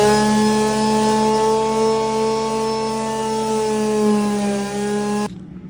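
A power sander runs steadily and loud with a sustained whine while sanding the V-berth of an old sailboat under refit, then cuts off abruptly near the end.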